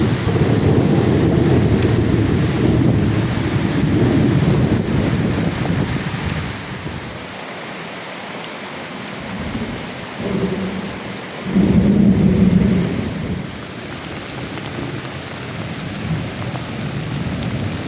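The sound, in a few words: thunderstorm with thunder and heavy rain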